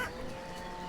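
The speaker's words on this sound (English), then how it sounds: "there's that sound effect of all those chickens dying" Chickens clucking and squawking in a farming village in the city-building game Banished, a short continuous burst of overlapping fowl cries at moderate level.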